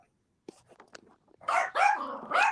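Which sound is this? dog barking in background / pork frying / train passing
dog barking in background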